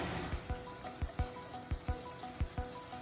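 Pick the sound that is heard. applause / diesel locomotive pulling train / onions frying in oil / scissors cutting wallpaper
onions frying in oil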